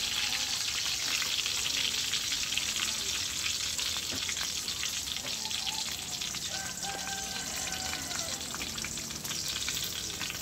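Salmon fries in hot oil with a constant loud crackling sizzle and bright spitting pops, heard close up with a few faint clinks in the background and no speech.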